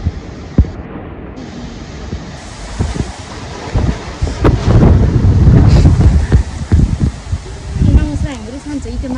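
Sudden windstorm with rain gusting hard around a yard, loud rushing wind and rustling swelling and fading throughout, with people speaking excitedly over the roar.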